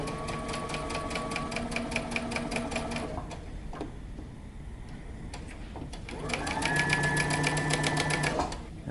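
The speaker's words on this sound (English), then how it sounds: "Also remember to back stitch to secure your stitching." A sewing machine stitches a t-shirt shoulder seam in two bursts of fast, even needle rattle, with a short pause and a backstitch between them, close and clear.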